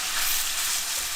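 Beef stroganoff meat frying in a hot pan, a steady, close hiss of sizzling fat filling the short stretch with no voices.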